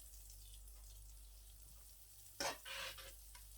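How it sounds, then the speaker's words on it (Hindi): Butter hits a hot tawa while mooli paratha is cooked, giving a sudden loud sizzle that bursts up after a quiet stretch of low hum, then settles into a steady frying hiss with a few small crackles. "तवा हमारा गर्म हो चुका है। मैं इसमें मक्खन जो है वो ऐड करूंगा इस तरीके से।"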